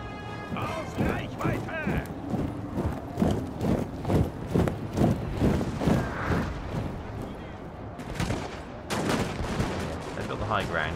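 Troops firing volleys in Napoleon: Total War, heard as a steady stream of crackling musket shots spread across the battlefield, with a heavier burst of fire near the end.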